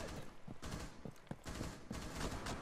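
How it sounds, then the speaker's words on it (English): Rapid bursts of video-game gunfire, several sharp cracks in quick succession over a continuous noisy background, with no voices. "I hear so much shooting, bro."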